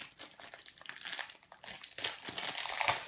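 Paper envelope being pulled from its cellophane packet during card-making, giving close, steady crinkling and rustling that grows louder toward the end.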